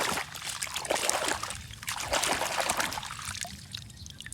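Water splashes and trickles steadily for a few seconds onto a toy truck, a close, bright hissing pour with no voices.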